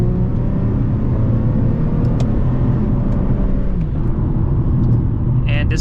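An Infiniti G35 engine rumbles steadily from inside the cabin after a paddle-shift downshift to third gear, giving a low, continuous drone with road noise. A faint click comes near the end.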